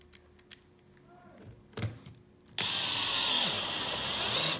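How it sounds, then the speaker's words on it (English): A cordless drill on a low clutch setting drives a screw into wood, stripping the threads. After a few quiet knocks, a loud, steady motor whir starts partway through and runs close up to the end. "Still stripping out the screw, or the threads of the screw in the wood."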